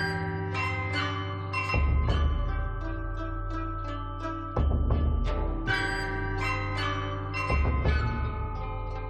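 Ancient Chinese bronze bells from a tomb sealed in 433 BC ring out in a slow melodic sequence, each deep resonant strike blooming with long shimmering overtones that overlap and decay, loud and clear with no talk.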